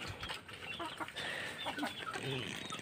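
Chickens clucking in short, scattered bursts at a moderate distance, with a steady background hum of farm noise and no clear talk.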